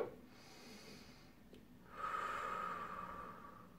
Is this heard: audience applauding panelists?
no